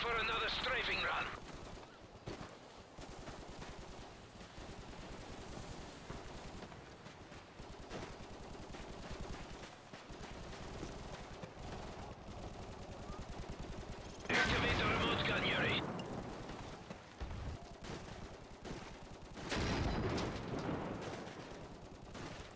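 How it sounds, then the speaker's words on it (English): Gunfire from a strafing run in a video game sounds in several loud bursts over a continuous battle din, with game voices heard in between. "Yuri, I'm ready for another strafing run."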